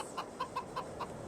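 A flock of sixty chickens and one rooster in Farming Simulator 22 cluck in short, evenly spaced notes, about five in a row, soft and somewhat distant.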